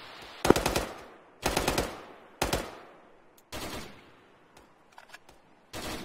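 Automatic gunfire in Arma 3 comes in five or six short bursts of rapid shots, each ringing off with a long echoing tail and quiet gaps between.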